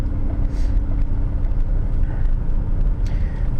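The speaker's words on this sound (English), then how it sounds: "Now I'm driving at about 20 kilometers an hour" A car rolls slowly at about 20 km/h on a city street, heard from inside as a steady low engine and road rumble that stays even throughout, with no talking.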